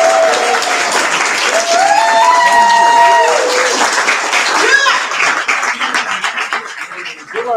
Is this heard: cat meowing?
no